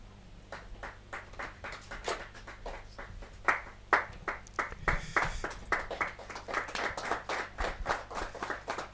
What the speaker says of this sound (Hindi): जोरदार ताली के साथ